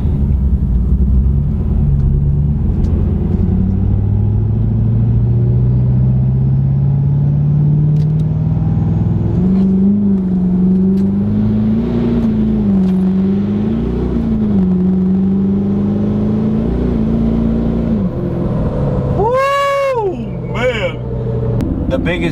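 A Ford F-250 6.7 Powerstroke diesel engine with an aggressive custom tune, over 700 horsepower, roars and climbs steadily in pitch as the pickup accelerates hard, holding a loud drone with slight wavering, then a voice speaks briefly.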